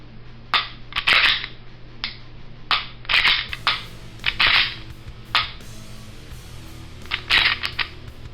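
A Glock pistol trigger after a trigger job and fitting of a heavier 6 lb trigger spring, clicking sharply and resetting, close and loud, in irregular bursts of clustered clicks with short pauses between them.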